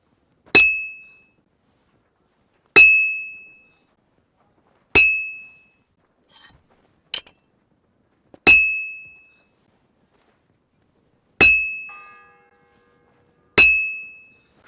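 A bell in the Kingdom Come Deliverance II video game struck slowly and loudly, each clear metallic clang ringing out and decaying before the next, about seven strikes with a few faint clinks between.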